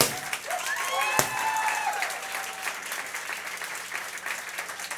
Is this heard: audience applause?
yes